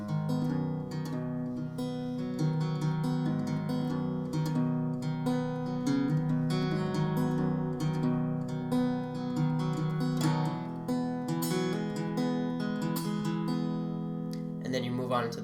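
Acoustic guitar intro to a song with frequent hammer-ons, a steady strummed and picked pattern ringing fairly loud and close throughout, with no talking.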